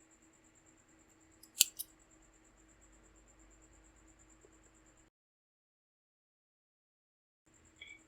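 A single sharp snip of scissors cutting crochet yarn close by, with a quick second click against faint background hiss, then near silence.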